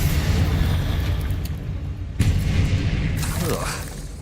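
In Hogwarts Legacy, the Bombarda spell erupts as a loud, deep boom with shattering debris. It opens with a heavy rumble, and a second burst follows near the middle, all beneath a continuous game soundscape.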